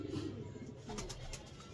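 A pigeon coos softly in a short, faint low call, a couple of muffled throaty notes against quiet background noise.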